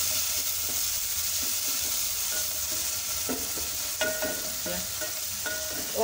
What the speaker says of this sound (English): Onions we just cook for themselves.